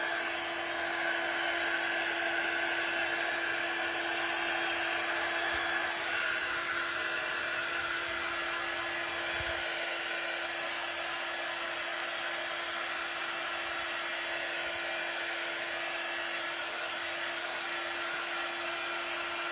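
A handheld hair dryer blows steadily on fresh paint on a paper shipping bag vase, giving a loud, continuous whirring roar with a faint high whine that runs unbroken for the whole stretch, with no voices.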